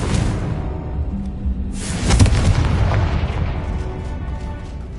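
Confringo spell explosions in the Hogwarts Legacy video game, loud booming blasts, the first and biggest near the start, then a second burst with rumbling debris and echoing impacts fading out.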